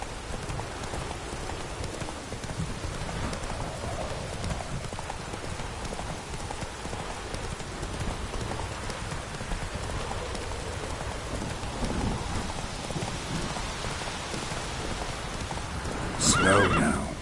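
Horse hooves clip-clop steadily through heavy rain in The Witcher 3 video game, a constant downpour washing over the gallop, with a brief whinny near the end.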